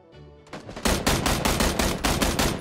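Rapid automatic gunfire in the shooter game PUBG, a loud, close burst of about a dozen evenly spaced shots following a softer lead-in of a few quicker clicks.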